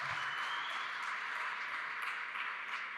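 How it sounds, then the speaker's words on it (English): Conference audience applauding a speaker at an AI event, a continuous even patter of many hands clapping, moderately loud and sustained, with no talk over it. "let's give it up for Amir. Round of applause"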